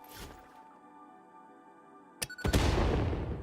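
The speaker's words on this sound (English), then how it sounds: "Well, have an explosion." An explosion in the video game Satisfactory: quiet humming game ambience, then a sharp crack and a loud, sustained rumbling blast near the end.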